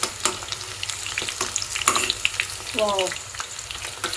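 Pieces of tuna fish frying in a pan, a loud continuous sizzle and crackle up close with occasional spatters and a brief exclamation from a voice partway through.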